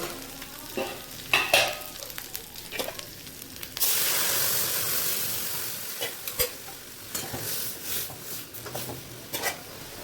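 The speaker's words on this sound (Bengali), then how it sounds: "এবারে ডালটাকে ঢেলে দিতে হবে" Dal is poured into hot tempering in a pan, setting off a sudden loud burst of sizzling that slowly fades, with stirring clinks and scrapes before and after.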